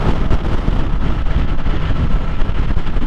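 Heavy wind buffets the microphone while riding a Kawasaki Ninja 650 motorcycle at highway speed, a loud continuous low rumble with no talking.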